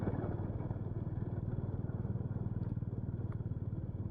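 Motorcycle on a road ride toward Kumbhavurutty waterfalls near Tenkasi, its engine pulsing steadily and close throughout, a rough mid-pitched thrum with no clear gear change heard.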